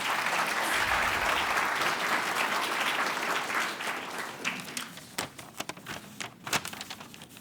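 An audience at a mock trial competition welcomes a Seoul High Court judge with dense applause that thins out into scattered individual claps.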